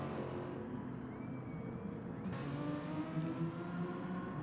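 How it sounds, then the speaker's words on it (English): A race car engine in a racing video game drones steadily at high pitch, with a sudden shift in tone partway through, moderately quiet and continuous. "There we can hear the car"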